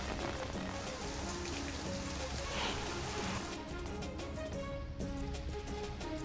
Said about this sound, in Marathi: रत्नागिरी जिल्ह्यातल्या खेडमध्ये सकाळपासून मुसळधार पावसाला सुरुवात झाली